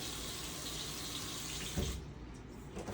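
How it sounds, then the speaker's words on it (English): Four quarts of water pour steadily for nearly three seconds, a continuous rushing splash that shifts slightly near the end, heard alone. "we're putting in the 4 quarts. That gives us the water we need."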